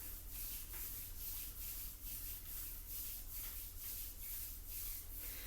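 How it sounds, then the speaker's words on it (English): Bare palms rub together in a steady, rhythmic back-and-forth, a soft close swishing of skin on skin repeating about twice per second. "we take the palms together in front of the heart center as if warming the hands, and start rubbing them together on the heart fire"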